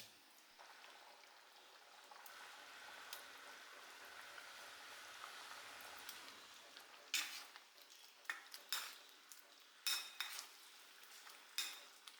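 Boiled eggs go into a simmering egg curry and get stirred, a faint sizzle giving way to several sharp clinks of a spoon against the pot, quiet and close with no speech.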